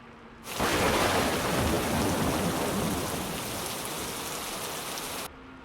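Steady, heavy rain pours down for several seconds, a dense continuous hiss that starts abruptly and stops just as suddenly, with no voices.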